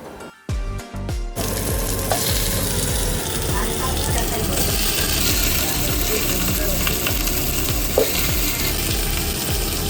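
Washed raw chicken pieces for biryani drop into boiling oil, with a few clattering knocks at the start, then a loud, steady sizzle and crackle that carries on close by.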